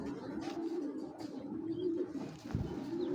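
Green-necked Giribaz pigeons cooing steadily at low volume, with faint flutters and scuffs nearby.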